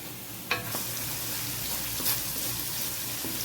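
Spices with cumin powder and garam masala frying in a pan for a koftay curry, a soft steady sizzle with a few light stirring clicks and scrapes, close but fairly quiet, no talking.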